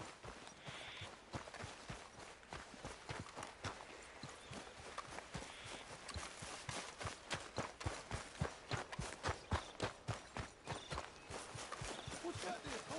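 Horse hooves clip-clopping on the ground in the video game Red Dead Redemption 2, a steady rapid rhythmic clatter throughout, loud and close, speeding up toward the end.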